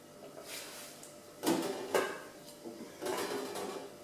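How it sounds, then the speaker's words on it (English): Spatula scraping and stirring melted chocolate in a metal pan, a few soft scrapes and clinks close by, alone without talk. "I'm just going to give my chocolate in the pan another stir"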